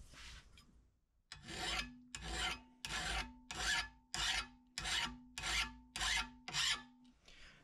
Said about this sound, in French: Tu prends ta lime et tu viens la positionner à environ 45 degrés.